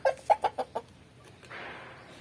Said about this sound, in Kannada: ಕೋಳಿ ಹುಂಜ ಅದ ನೋಡ್ರಿ